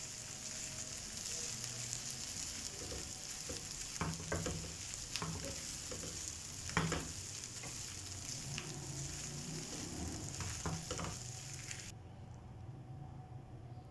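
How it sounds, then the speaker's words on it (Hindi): Pre-boiled chicken pieces sizzle in a pan for chicken pockets, a quiet, constant frying hiss broken by a few soft stirring clicks and scrapes, the sizzle dropping back near the end. "अब मेरे चिकन को पकते हुए 2 मिनट हो गए हैं।"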